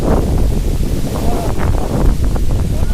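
Strong wind buffets the microphone in steady rumbling gusts in a forest near Muthyamdhara waterfall, with rushing water and faint talk underneath.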